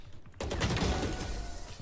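Gunfire in the Valorant shooter erupts after a quiet opening, a dense burst of shots that stays loud and sustained for over a second with no talking.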